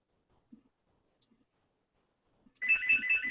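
A telephone ringtone starts abruptly near the end after near silence and a couple of faint clicks, loud and continuous, with an electronic trilling pattern.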